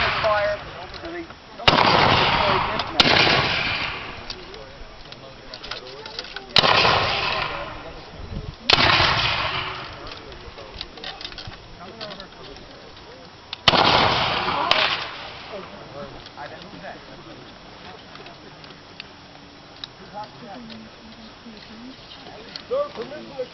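Civil War reenactors fire rifle volleys at an encampment, loud sharp cracks spaced several seconds apart with long rolling echoes, while voices talk between the shots.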